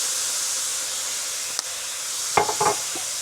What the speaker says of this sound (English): we're just gonna saute that all together